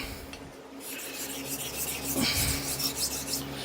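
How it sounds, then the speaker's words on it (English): A straight razor is drawn across a 400 grit Naniwa whetstone to set a bevel on a warped blade, giving steady close rasping strokes that repeat without pause and no talk. "Let me see what a 400 grit hone looks like."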